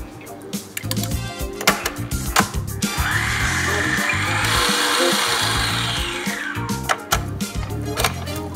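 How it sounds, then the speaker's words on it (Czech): A kitchen food processor mixing ricotta with three whole eggs runs with a steady whirring motor hum for several seconds, framed by clattering knocks and handling noises before and after. "teď si v robotu smíchám ricotu a 3 celá vajíčka"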